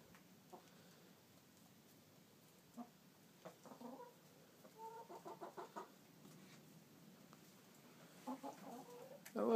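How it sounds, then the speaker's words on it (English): Farm chickens peck at scattered corn, giving soft scattered clucks and short murmuring calls in a quiet outdoor setting, the bursts growing a little busier and closer toward the end. "Here the chicken's eating."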